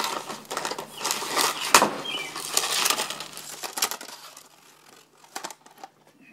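Black and Decker GrassHog GH1000 trimmer line being snipped to length for restringing the spool, a run of close, crisp cutting and crinkling sounds that thin out toward the end.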